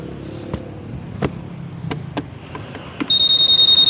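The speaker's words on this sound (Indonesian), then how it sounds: "Tinggal pasang alarm. Kalau kalian gebuk, motor ini bunyi." A Honda PCX 150 CBS ISS 2020 scooter's alarm kicks in after several knocks, sounding as a loud, steady pulsing electronic beep close by for the final second.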